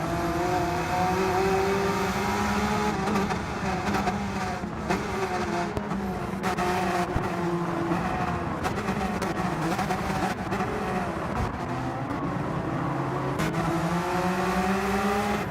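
A 1,000-horsepower Porsche 911 in Gran Turismo 7 drones steadily at high revs, its engine tone rising and falling through gear changes with brief tyre squeal, loud and continuous throughout.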